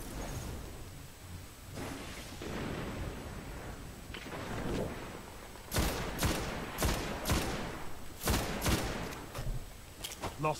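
Destiny gunfire on PS4 rattles in repeated sharp bursts, growing denser and louder toward the end over a busy game soundscape, with a player talking at times.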